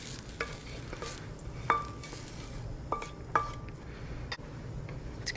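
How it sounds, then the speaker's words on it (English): Garlic and green onion whites sauté in a pan with chorizo ingredients nearby, a steady sizzle running underneath while a utensil stirs and clicks sharply against the pan several times. "Starting off here, I have some sauteed garlic and the whites of the green onion I'm going to"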